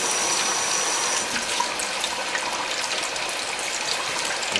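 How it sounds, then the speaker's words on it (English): Water pours steadily into a cooking pot of uncooked rice for homemade beef fried rice, a continuous close splashing gush that stays even and loud throughout with no voices. "I'm adding a half a cup of water"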